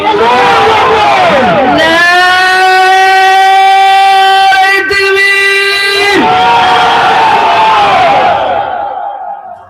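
A large crowd at an Islamic religious gathering roars the takbir chant back in unison, a loud, sustained, drawn-out collective shout that swells, holds for several seconds and then breaks into scattered cheering voices.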